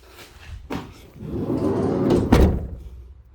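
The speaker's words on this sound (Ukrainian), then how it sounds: "Дверцята закрив." The cab door of a 2018 Renault Master L3H2 van with a tail lift swings and is shut, giving a soft thump, then a rustling shuffle and a sharper latch click close by.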